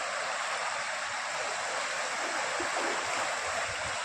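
Steady, loud rush of the fast-flowing Kamla Balan river at Jhanjharpur, a continuous broadband roar with churning texture and no pauses.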